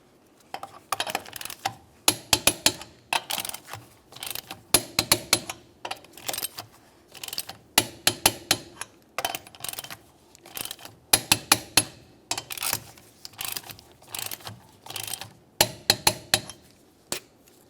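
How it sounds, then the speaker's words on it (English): A torque wrench tightens the wheel lug nuts on a 2006-2011 Honda Civic in a crisscross pattern, giving sharp metallic clicks in short bursts and pairs that repeat steadily, close and fairly loud in a quiet garage. "we'll continue on torquing these to 80 foot-pounds in a crisscross manner"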